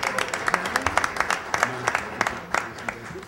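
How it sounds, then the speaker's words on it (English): Scattered, fairly close clapping from a small audience at a business and labor coalition meeting in New York, individual claps distinct and rhythmic rather than a dense roar. "The applause was led by David Pollock"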